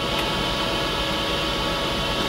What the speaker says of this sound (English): I know you can hear it, the fan's kicking and it's pumping out a lot of heat right now